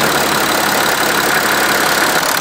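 A diesel engine running steadily after being started with its injectors worked on, a loud, even broadband idle that holds throughout with no pause or voices.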